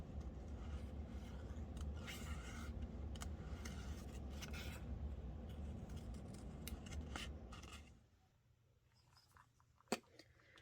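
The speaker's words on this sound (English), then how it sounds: "I'll just cut this out." Scissors cut out paper pieces for a Bible journaling page, a steady close snipping and rustling that stops abruptly, followed by quieter handling and one sharp tap.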